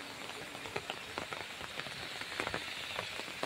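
Steady, soft rain patters on surfaces in a botanical garden in Singapore, a quiet and even wash of drops with no one talking.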